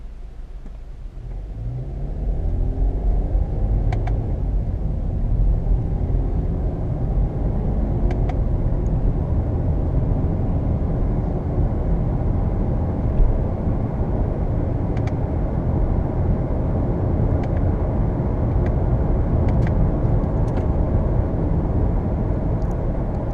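A Subaru Impreza in manual mode accelerating, a steady loud engine drone building and holding throughout, heard from inside with no talk over it.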